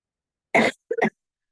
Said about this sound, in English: I had a bad cough.